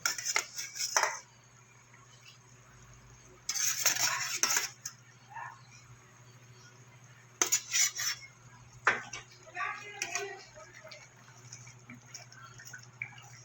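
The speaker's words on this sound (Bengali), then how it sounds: "এবার আমি ভেজে রাখা মাছগুলো দিয়ে দেবো।" Fried pomfret pieces go into a pan of boiling gravy while a spoon clinks and clatters against the pan in short bursts, separated by quiet stretches of low kitchen hum.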